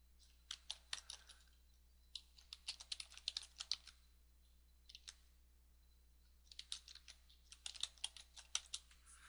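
Bursts of rapid clicking keystrokes on a computer keyboard, coming in several flurries separated by short pauses, close and fairly quiet over a faint hum.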